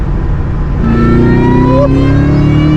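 An SVT Cobra Terminator engine revs up steadily in third gear, a rising drone with a climbing mechanical whine, loud and close, no talking.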